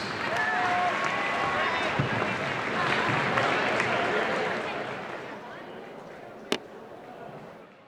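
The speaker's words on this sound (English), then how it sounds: "Let's have a big round of applause for our Fall 2021 Girls All-Conference" Crowd applause fills a gym at a high school basketball tournament, a sustained broad wash of clapping and cheering that holds steady for several seconds before tapering off, with one sharp bang near the end.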